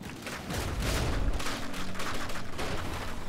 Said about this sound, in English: Just getting hit constantly every single time the Warden is firing it. This is getting hit by cram shells.